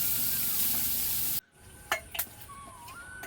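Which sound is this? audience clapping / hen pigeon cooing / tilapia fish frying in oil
tilapia fish frying in oil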